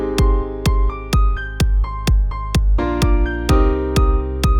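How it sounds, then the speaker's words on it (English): A synthesized saw-wave bass line, low-pass filtered to soften its top end, plays about nine evenly spaced plucky notes with a steady rhythm, loud and alone. "I'm going to take up the high frequencies with a low pass filter because it's a saw wave"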